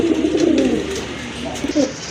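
A light-coloured grizzle pigeon, one of a pair, coos in low, throaty bursts up close, with a short pause between phrases.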